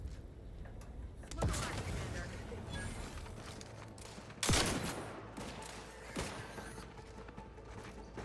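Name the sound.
grenade explosion in video game The Outer Worlds 2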